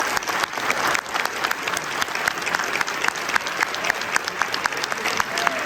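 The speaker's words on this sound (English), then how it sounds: "Let's give him a round of applause." An audience at Lowndes High School gives sustained applause for the new head football coach at a meet and greet, a loud, dense and continuous wash of clapping from a crowd with no talk.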